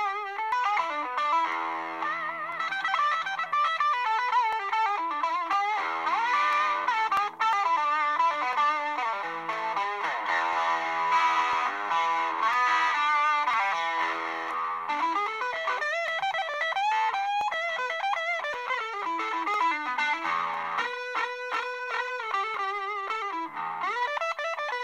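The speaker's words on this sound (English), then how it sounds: "This is Ibanez Tube Screamer." An electric guitar played through an Ibanez Tube Screamer overdrive pedal, a sustained run of overdriven melodic lines and bends with a warm, driven tone, heard alone.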